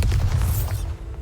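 A Bombarda blasting spell from Hogwarts Legacy goes off in a deep, heavy boom that rumbles for about a second before fading into quieter game ambience.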